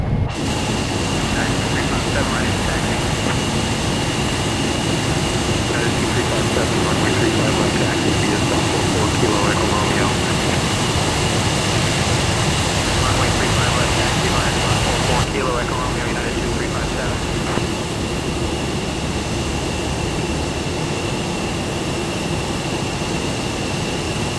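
Emirates Boeing 777-31H(ER) taxiing in Microsoft Flight Simulator 2024, a loud continuous jet-engine roar with a steady whine that shifts tone partway through, while someone talks over it.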